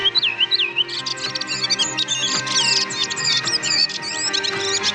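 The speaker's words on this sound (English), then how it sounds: "It's the redwing, Turdus iliacus, today's Talking Birds featured feathered friend." A redwing (Turdus iliacus) sings, opening with a few slurred whistles and then running into a rapid, busy stream of high chirps and twitters, close and loud throughout.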